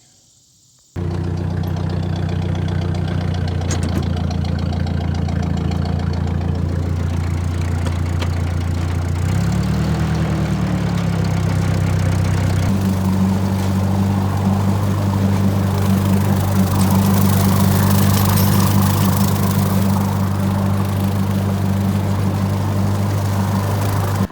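A Ford 600 tractor engine idles and runs steadily, close and loud, with a constant low drone that shifts pitch briefly midway before settling again, used for bush hogging.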